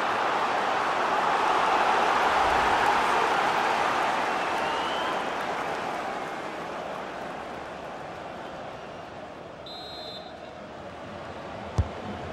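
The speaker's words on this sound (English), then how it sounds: "Oh, the crowd delighted with this." Crowd noise in the football video game FIFA 19 swells into a broad, roaring cheer from a stadium audience, then gradually fades to a lower murmur, with a brief sharp click near the end.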